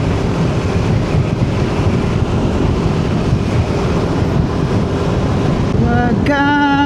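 Strong wind buffets the microphone beside a river while riding an NMAX V3 scooter, a loud steady rumbling roar throughout, with a brief rising tonal whine near the end.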